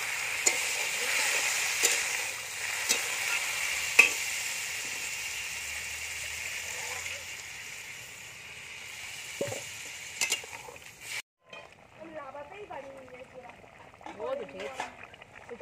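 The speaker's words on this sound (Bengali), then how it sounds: "এবার জল দিয়ে দেবো।" Spiced vegetables for a vegetarian cauliflower dish sizzle in a pan as water goes in: a steady, close hiss with scattered stirring clinks, then the frying dies away and a voice speaks.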